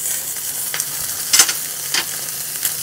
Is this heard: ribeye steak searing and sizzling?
yes